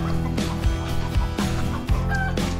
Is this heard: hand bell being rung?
no